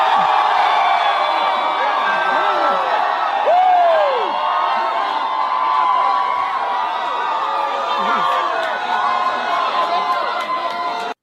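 A large crowd cheering for Hassan, with whoops and shouts rising over a steady roar of many voices, loud and continuous throughout, with individual voices swelling above the mass at times.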